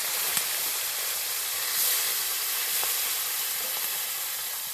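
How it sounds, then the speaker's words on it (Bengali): Small snakehead fish fry in hot oil with a continuous loud, hissing sizzle that swells briefly, plus a few faint pops and clicks, with no voices. "তেলটা গরম হয়ে গেছে, এবার আমি মাছগুলো দিয়ে দিচ্ছি"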